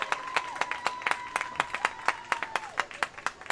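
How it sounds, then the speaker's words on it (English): Scattered clapping from fans at a high school boys soccer game at Cardinal Stadium, a steady patter of handclaps with a faint sustained tone running underneath. "Some appreciative applause for the effort from the fans here at Cardinal Stadium"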